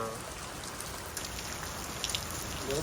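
Steady rain hiss fills the whole stretch, with scattered drops pattering nearby and no voices.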